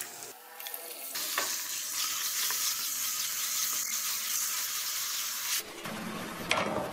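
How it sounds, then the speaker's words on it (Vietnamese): Minced shallots stir-fried in hot oil for a bánh nậm filling produce a loud, dense sizzle that starts abruptly, holds steadily for several seconds with faint scraping, then cuts off. "Dầu nóng rồi thì em sẽ cho cái gốc hành mà hồi nãy mình băm nhuyễn vô, đảo cho thơm lên."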